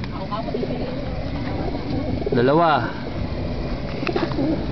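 Racing pigeons coo in a throaty, wavering burst near the middle, under a man counting aloud, with a steady outdoor background hum.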